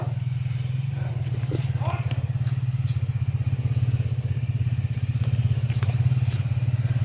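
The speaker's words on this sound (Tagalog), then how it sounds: "may motor na parating. Parang may motor." A motorcycle engine drones steadily close by in an outdoor setting, a continuous low rumble that swells slightly as it approaches, with scattered faint voices and background clatter over it.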